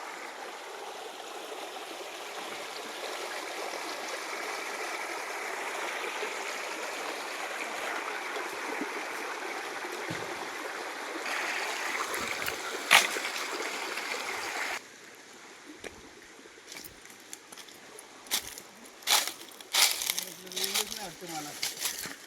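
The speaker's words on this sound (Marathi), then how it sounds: "कसं पाणी वाहतं बघा" River water flowing along a bank where an outdoor popti cookout is being set up, a steady rushing stream with splashes, later quieter with scattered clatter as people talk nearby.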